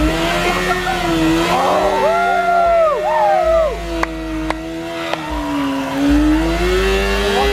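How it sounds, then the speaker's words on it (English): A truck doing a burnout at a night truck meet, its engine revving hard and steadily with rising and falling pitch while the tires squeal, loud and close, with a few voices underneath. "Your best burnout of the night."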